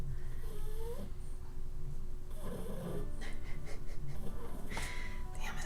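Someone snores steadily through the clip, a soft, rough breathing rhythm beneath a continuous room hum, with a voice murmuring faintly in the background.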